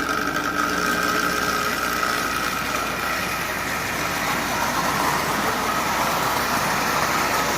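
A Marx 999 tin toy train locomotive pulling 14 cars at half power, giving a continuous whirring, rumbling drone of motor and wheels, steady and close with no voices.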